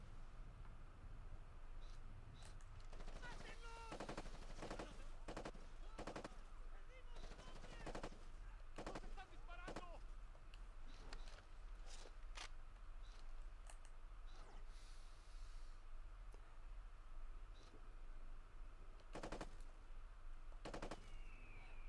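Rapid enemy gunfire in the video game Ghost Recon Advanced Warfighter 2, with repeated bursts of automatic fire and single shots cracking sharply throughout, fairly close, over a steady low background.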